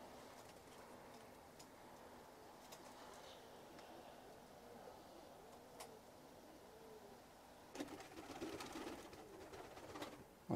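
Pigeons coo softly in a loft, pairs of rounded, repeated low calls drifting in and out over a faint steady background, with a few louder rustles and wing flutters near the end; these are Turkish high-flying tumbler pigeons.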